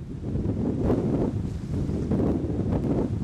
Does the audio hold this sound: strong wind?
yes